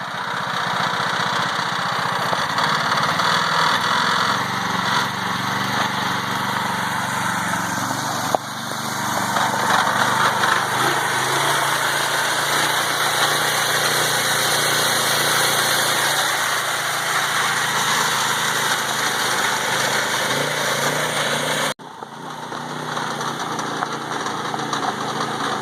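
Predator 212 gas engine powering a converted EZGO Marathon golf cart on a test drive, a steady continuous engine drone at moderate throttle lasting throughout, with a brief dip near the end.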